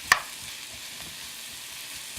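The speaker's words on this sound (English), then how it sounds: "So we'll saute these things up a little bit." Capers and vegetables sautéing in a pan give a soft, steady sizzle, opened by one sharp clink of a utensil against the pan.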